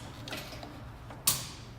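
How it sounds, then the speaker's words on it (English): An HID headlight bulb on a 2007-2014 Chevy Tahoe is twisted counterclockwise in its housing, giving a few soft plastic creaks and then a sharp click as it unlocks. The sounds are close and quiet. "And then you twist the bulb counterclockwise, like if you're loosening a bolt or something."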